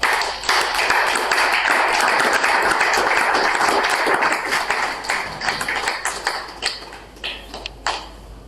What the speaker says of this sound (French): le professeur Nico Omeonga, sous vos applaudissements